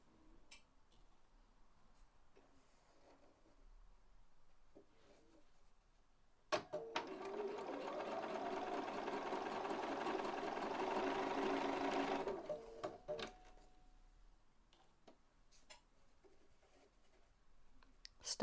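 Sewing machine stitching a neckline facing seam on woven fabric runs in one steady burst of about six seconds, quiet and close, with scattered light clicks and handling before and after.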